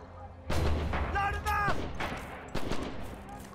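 Gunfire and artillery booms in the WWII shooter Red Orchestra 2 during a multiplayer match on Spartanovka, with sharp cracks and heavy blasts in bursts, some bright ringing tones, and a voice talking underneath.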